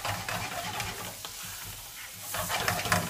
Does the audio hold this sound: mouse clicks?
no